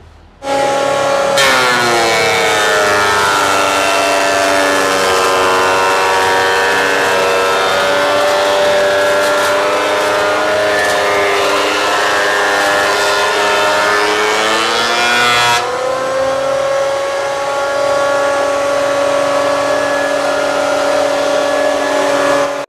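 A JEMA thickness planer feeds a board through with a loud, steady high-pitched whine and cutter roar that starts abruptly and holds for about fourteen seconds, then drops as the wood exits while the motor keeps running.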